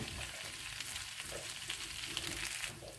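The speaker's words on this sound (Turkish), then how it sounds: "Evet sarımsağımızı rendeledik. hafiften kavuruyoruz" Grated garlic sautés lightly in a pan with a soft, steady sizzle that stays quiet and constant throughout, with no talking.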